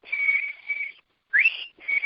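A sustained human whistle, the signal of the Saviors from The Walking Dead, holds a long steady note, breaks off, then returns with a rising slide into another held tone, clear and close.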